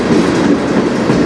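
A train rolls past nearby, a brief steady roar of wheels and cars at close range, loud and continuous with no voices.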